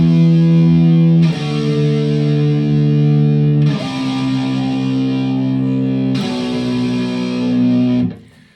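Distorted electric guitar playing a rock bridge section, three sustained power chords each struck and left ringing with effects, loud and close, with no talking.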